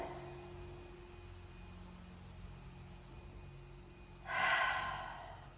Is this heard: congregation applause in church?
no